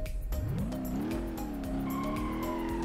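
A Nissan S13 with a stock-exhaust 2-litre inline-four and five-speed manual drifting in BeamNG.drive, its engine note rising in pitch and then holding steady while the tyres squeal throughout, loud and close.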